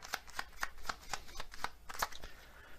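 Kipper fortune-telling cards are shuffled and drawn: a close, quiet run of crisp riffling flicks in a quick, fairly even rhythm lasting a few seconds.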